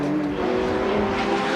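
Touring race car engine held at steady revs climbing the mountain toward BP Cutting at Bathurst in the 1991 Bathurst 1000, a continuous droning whine with tire and wind noise, no talking.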